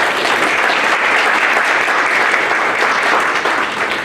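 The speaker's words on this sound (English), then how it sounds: "Please give each candidate another round of applause" Steady, dense applause from an audience at a local candidate forum, loud and continuous throughout for the candidates with no talk over it.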